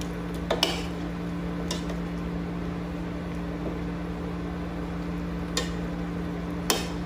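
Adobo is stirred in a pot over a steady stove hum, with a few sharp spoon clinks against the metal spaced out over several seconds, otherwise quiet.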